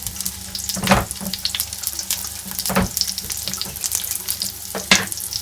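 Tap water running into a kitchen sink while food is washed, steady splashing with a few louder bursts as the stream hits, sizzling from a pan in the background.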